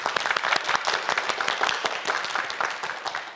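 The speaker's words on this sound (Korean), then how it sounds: "3명의 학생에게 끝까지 최선을 다하라는 의미로 큰 박수 부탁드립니다" Studio audience applause on a televised quiz show, dense, continuous clapping from many hands that holds steady and then tapers slightly at the end.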